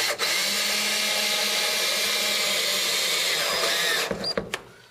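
A power drill drives a Tapcon screw tight in a studio build, a loud, close, steady whine lasting about four seconds that ends in a few sharp clicks and stops.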